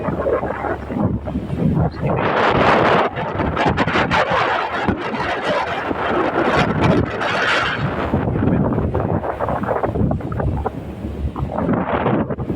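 Strong wind roars and buffets the microphone continuously, loud and gusty, with no voices.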